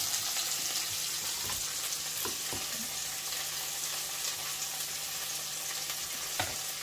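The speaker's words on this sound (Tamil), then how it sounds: "இப்போ இந்த மசாலாவில் வந்து நல்லா மிக்ஸ் பண்ணிக்கலாம்" Masala fries and sizzles in a pan for a steady stretch while being stirred, with a constant close crackle of oil and occasional scraping knocks from the spoon against the pan.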